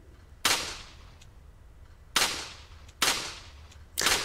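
Four sharp in-game gunshots from Resident Evil 4, spaced unevenly with the last three coming close together, each a loud broadband crack with a short decaying tail over a low background hum.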